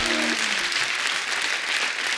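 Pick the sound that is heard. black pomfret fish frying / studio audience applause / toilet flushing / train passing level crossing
studio audience applause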